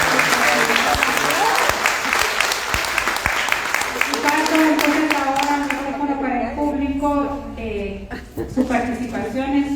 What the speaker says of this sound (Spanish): Yo pido un aplauso